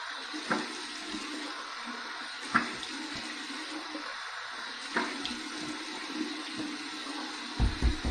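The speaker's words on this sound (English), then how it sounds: "Here's my warm water rinse." Warm tap water runs steadily into a sink as a rinse after a shave with an adjustable injector razor, with a few soft splashes and clinks over the continuous flow.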